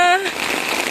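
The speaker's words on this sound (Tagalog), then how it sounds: "At malakas po ang ulan." Heavy rain falls during a storm in Ota, Gunma, Japan, a broad wash of hissing spatter that takes over right after a brief tonal voice and continues evenly to the end.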